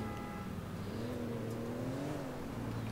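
An old Porsche drives through the city in Grand Theft Auto IV, its engine humming steadily and rising briefly in pitch as it revs, close and moderately loud, with no talk.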